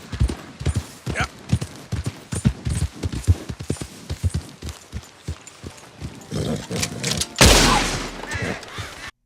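A piebald Tobiano horse in Red Dead Redemption 2 clip-clops along in a steady, close rhythm of hoofbeats, ending in a sudden burst of loud rushing noise near the close.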